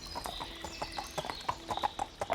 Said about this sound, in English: She mounted her horse again,